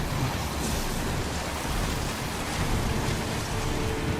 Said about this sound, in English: Lightning Talisman.